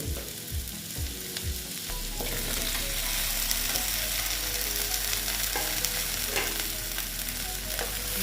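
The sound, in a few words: okra frying in gram flour masala in a pan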